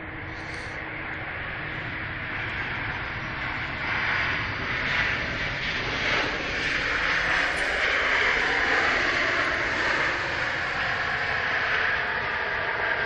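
An airliner lands at Manchester Airport with a broad, steady roar of engine and rushing noise that swells gently and holds loud and continuous throughout, with no voices.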